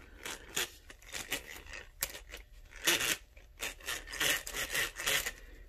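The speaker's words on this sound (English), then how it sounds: "try the drill out. Listen to this." A hand-cranked eggbeater drill is turned in bursts, giving a scratchy, rasping grind of gears with uneven rhythm, close by and with no talking.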